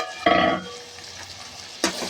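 Moringa chicken curry in a pan gets stirred, a short scraping burst followed by a quiet sizzle and another brief scrape near the end.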